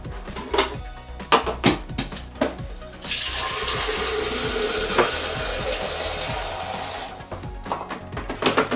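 Tap water running into the water tank of a Nespresso Creatista coffee machine for a few seconds in the middle, a steady rush framed by handling knocks and clatter before and after.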